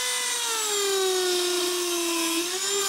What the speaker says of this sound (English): Put the burr in the corner, run down the side of that A.